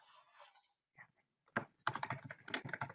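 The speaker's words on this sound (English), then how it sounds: "I'm typing. So I hear some clicking" Computer keyboard typing, heard close and quiet: a few isolated clicks, then a dense run of rapid keystrokes.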